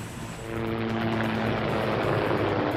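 A loud, steady helicopter rotor drone with a fan-in-tail fenestron rotor swells up after a quiet start, with a low humming engine tone and a faint rhythmic pulsing.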